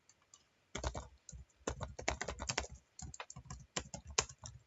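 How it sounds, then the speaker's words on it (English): Keys clatter on a computer keyboard in quick irregular bursts, close and clear, with short pauses between runs of typing and no talking. "I'm really bad at typing right now."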